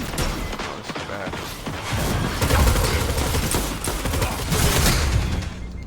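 Weapon fire in the Destiny 2 video game, a dense continuous barrage of shots and mechanical clatter, loud and sustained throughout with no talking.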